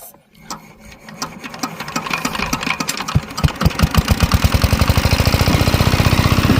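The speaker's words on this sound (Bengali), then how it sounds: "এক চান্সে মেশিনটা কিন্তু স্টার্ট হয়ে গেল" A shallow irrigation pump engine watering an onion field starts up and quickly settles into fast, rhythmic thumping that grows louder and steadier, close by and alone.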